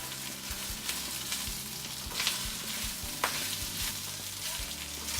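Pork chops, garlic cloves and tomato paste sizzle and fry in a pan while being stirred, with steady frying hiss and soft repeated scraping knocks, fairly quiet and close, no talking.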